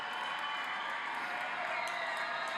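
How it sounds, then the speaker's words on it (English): Graduates at a spring commencement ceremony applaud and cheer as one steady roar of clapping and crowd noise, filling the hall without a break. "Let's keep the cheering going"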